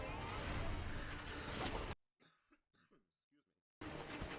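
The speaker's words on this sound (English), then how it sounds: "Had to cough there." A person coughs a few times at close range during a blind Sekiro: Shadows Die Twice playthrough, the short bursts standing alone in a gap between loud stretches of game sound.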